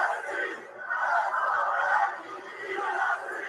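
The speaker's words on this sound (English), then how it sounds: "The Columbus crowd is split right down the middle, it sounds like." A wrestling arena crowd in Columbus roars and chants in swelling waves, distant and reverberant, with the cheering rising and falling over a few seconds.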